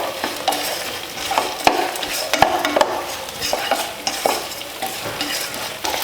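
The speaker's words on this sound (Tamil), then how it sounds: "இப்போ இதை கலந்து விட்டுறலாம்." A spoon stirs mashed potato with salt in a metal pan, scraping and clinking in an irregular rhythm of close, moderately quiet strokes with no talking.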